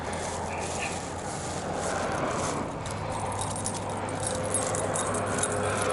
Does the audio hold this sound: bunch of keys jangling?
yes